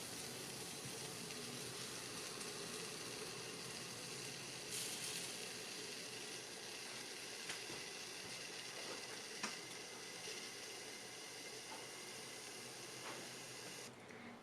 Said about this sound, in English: press without the risk of burning my wool. And I'm using steam